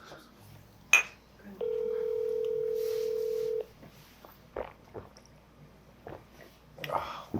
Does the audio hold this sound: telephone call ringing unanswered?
yes